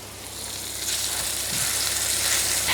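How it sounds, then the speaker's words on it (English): Steady, close sizzling and popping of burgers frying in butter and oil in a hot stainless steel pan, building slightly louder over a few seconds. "once that's sizzling, then I put the burgers in"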